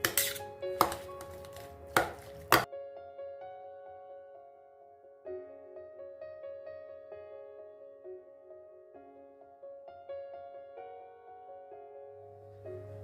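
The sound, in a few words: chopping greens with a knife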